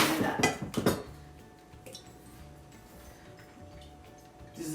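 Metal clattering and clinking as a baking pan is handled and greased with extra virgin olive oil for gluten-free corn bread, a few sharp clanks up front, then quiet scraping and faint ticks.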